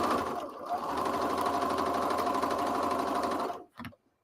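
A sewing machine backstitches a seam on a tote bag, a loud, fast, steady mechanical chatter running for several seconds before stopping abruptly, followed by a brief faint rustle.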